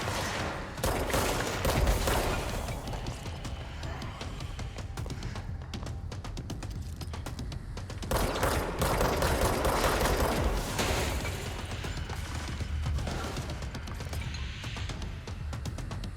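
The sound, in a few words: gunfire from the video game Control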